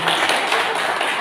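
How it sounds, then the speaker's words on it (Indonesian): Audience applause at a cooperative branch inauguration ceremony in Banyumas, a short burst of many hands clapping, loud and close, with an even texture throughout. "Tepuk tangan untuk"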